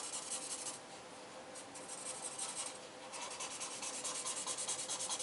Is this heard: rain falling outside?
no